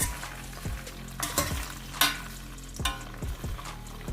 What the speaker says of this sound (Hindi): अब हम इसको फ्राई होने के लिए छोड़ देते हैं।